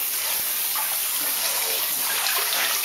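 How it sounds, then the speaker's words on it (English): Water gushes fast from a tap onto a counter and floor in a steady, loud, close rush that spreads wide, with no voices. "the water's getting really fast"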